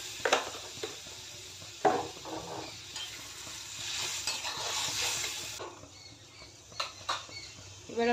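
Vegetables are stirred and sautéed in a pan with a soft continuous sizzle, punctuated by scraping spatula strokes and occasional clinks, moderately close.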